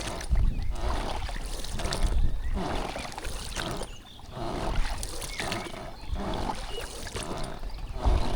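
A fishing boat moving along the Sob River in Ukraine, with steady washing and splashing against the hull and a low rumbling drone, close and continuous.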